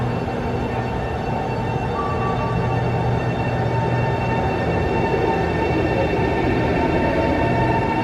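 Train rumble heard from aboard a rail service in Chengdu as a CR400F high-speed train passes, a steady loud rolling drone with a faint brief tonal whine midway.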